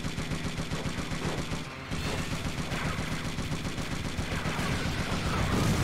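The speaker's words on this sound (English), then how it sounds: "So now all I have is a uh, machine gun" Dense, continuous machine gun fire from a vehicle in Twisted Metal 4, loud and relentless with a brief dip near the start, against roaring game noise.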